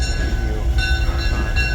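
A locomotive rumbles along the track nearby past a rail yard in Tunnel Hill, Georgia, with a steady low roar and faint metallic whine from the wheels, no voices.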